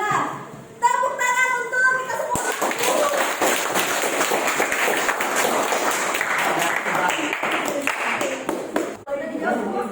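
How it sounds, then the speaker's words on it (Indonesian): Hands clapping together in a classroom during an Islamic religious education lesson, a sustained burst of group applause from students lasting several seconds, with brief talk at the start and end. "Tepuk tangan untuk kita"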